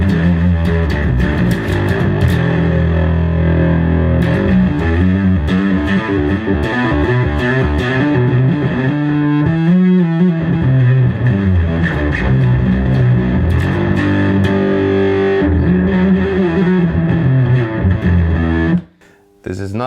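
An Acoustic 450 amplifier, driven through its unpadded input number 1, pushes out loud, fuzzy, nasty distortion from a played instrument, continuous and dense for about eighteen seconds before a sudden cut.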